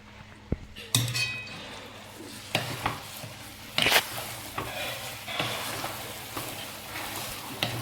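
Cooked rice is stirred into a jaggery syrup for sweet pongal in a pan, with scraping, clinks of the spoon against metal and a faint sizzle, close and intermittent under some background talk.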